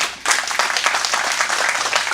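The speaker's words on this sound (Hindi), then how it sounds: "जोरदार ताली बजाओ" Audience at a Hindi kavi sammelan comedy poetry event bursts into loud, sustained applause, a dense continuous clapping that swells after a brief lull and holds steady throughout.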